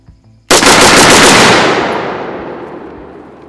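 A rifle with a LaRue MBT-2S trigger fired at a shooting range: one sudden loud crack that blooms into a rapid burst, then rings out and fades slowly over about three seconds.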